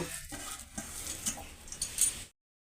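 Chopped pumpkin drops into four spoons of hot ghee in a wok for Bengali-style sweet pumpkin payesh, giving a close hissing sizzle with light clatter that cuts off abruptly after about two seconds.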